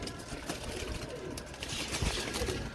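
Teddy breeder pigeons give soft, low cooing close by in a loft, steady and continuous with bird rustling in the background.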